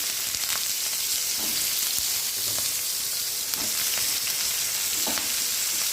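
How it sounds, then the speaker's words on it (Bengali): Pointed gourd (potol) frying in a pan: a dense, steady sizzle with occasional spatula scrapes and taps cutting through, close and even throughout. "এই যে পটলগুলো আমি ভাজা ভাজা করে নিচ্ছি।"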